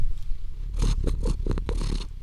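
A domestic cat purring very close, a run of raspy, rhythmic bursts over a low rumbling hum, with no talking.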